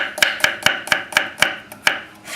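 A knife slices garlic cloves on a cutting board, giving about nine crisp, evenly spaced chops in a steady close rhythm.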